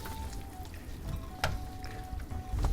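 Food stirred in a hot frying pan sizzles softly, a faint steady crackle broken by a couple of sharp scraping clinks from the utensil against the pan.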